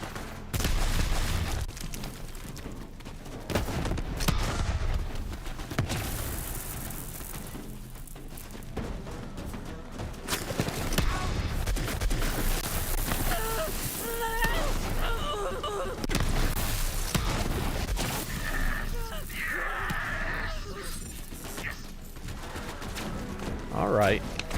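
Sustained gunfire fills a Borderlands 3 fight, with dense rapid bursts and heavier blasts layered together at a loud level, as someone talks over the shooting.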